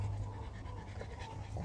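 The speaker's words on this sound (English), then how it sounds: "The panting noise you hear in the background is Puka and Canine panting." Two dogs pant steadily and close by in the shade at a house, a continuous rapid huffing that fills the whole stretch with no talking.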